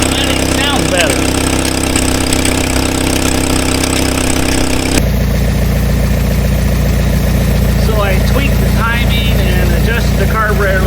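A 1951 Willys Jeep engine idles steadily and loudly close by, a continuous low rumble with a slight shift in tone midway through.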